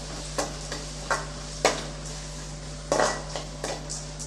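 A spatula clinks and scrapes against a pan several times as chopped onion is sautéed for a brinjal gravy, the separate taps sounding over a steady low hum with little audible sizzle.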